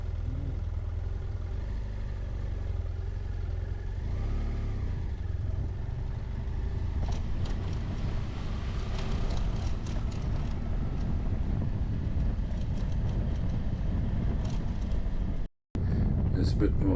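A BMW F800GS adventure motorcycle rides through a wide puddle on a clay forest track, its engine drone and wind rumble steady and close, with splashing and spray noise building midway before a brief dropout near the end.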